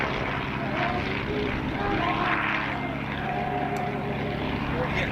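WWI fighter aircraft flying in formation at an airshow, a continuous droning propeller engine hum heard from a distance, steady throughout, under a public-address commentator's voice.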